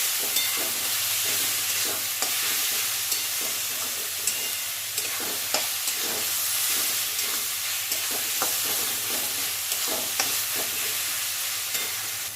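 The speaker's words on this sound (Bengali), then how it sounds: "স্বাদ অনুযায়ী একটু লবণ দিয়ে দিলাম আর দিয়ে দেবো হলুদের গুঁড়ো, দিয়ে বেশ কিছুক্ষণ কষাবো" Mutton spice paste stir-fried with salt and turmeric powder sizzles steadily in hot oil, with a continuous bright fry hiss punctuated by regular scraping stirs of a spatula, close and alone without voices.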